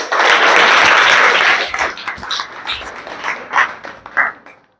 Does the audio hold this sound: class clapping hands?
yes